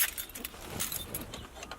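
A bunch of keys jangles close by in a quiet space, producing a few quick, bright metallic clinks and rustles.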